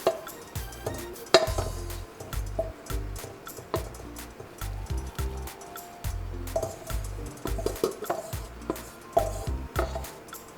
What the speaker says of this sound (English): Just giving that a good stir.